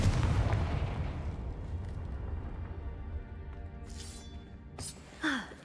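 The Confringo fire spell is cast in Hogwarts Legacy, producing a booming burst that decays into a rumbling tail, followed by a couple of fainter magical whooshes and chimes near the end.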